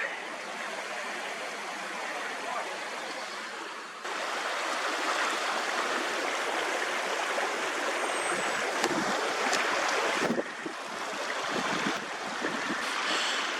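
The Gilfach river rushes steadily nearby, a dense, continuous wash of flowing water that holds at one even loudness for the whole stretch, with no voices over it.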